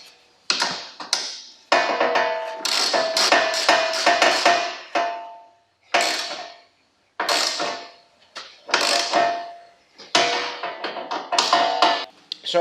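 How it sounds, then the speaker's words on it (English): Radiator support and bash bar bolts on a VW Polo 9N being tightened with a ratchet, heard as close bursts of rapid clicking, stopping and starting repeatedly with short pauses between runs. "Now we tighten all the bolts, also these two are at the top, the three on the bash bar."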